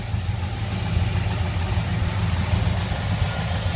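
A 1973 International Harvester Travelall's engine idles steadily with a low, even rumble, close by and without voices.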